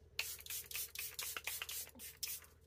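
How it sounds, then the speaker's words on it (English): About a dozen quick, soft bursts of makeup setting spray in an uneven rhythm, each a short airy hiss close by. "And going in with some more setting spray."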